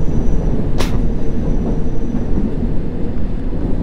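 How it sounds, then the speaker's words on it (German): Oncoming London Underground train in World of Subways, a loud steady rumble of wheels and carriages close by, with a sharp rushing burst near the start as it passes. "Ein Zug kommt mir entgegen."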